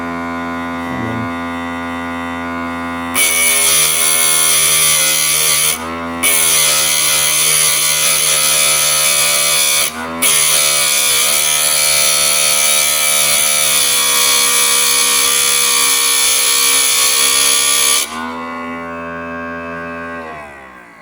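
Electric piston ring gap filer switched on, giving a steady loud whirring grind that runs for about fifteen seconds with two brief dips, then drops back to a quieter hum.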